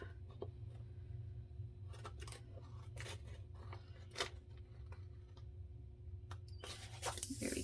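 Scissors snipping through paper for a dashboard Happy Planner, a run of sharp crisp cuts spread across the span, close and fairly quiet over a steady low hum, with no talking.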